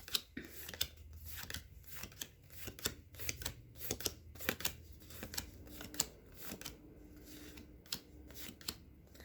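Tarot cards being shuffled by hand, a run of quick papery riffles and soft slaps in an irregular rhythm, close and fairly quiet with no talking.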